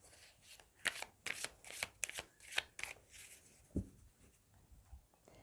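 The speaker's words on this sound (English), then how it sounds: "I'm going to shuffle the cards and pick some cards for you" Tarot cards are shuffled close by in quiet, rhythmic riffling bursts of crisp paper flutter, then a soft tap as the deck settles.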